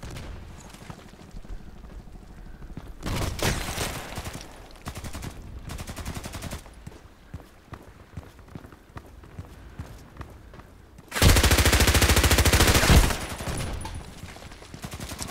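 Gunfire in the shooter game Contract Wars on the Bay 5 map comes in scattered bursts, with a long, loud sustained volley of automatic fire near the end.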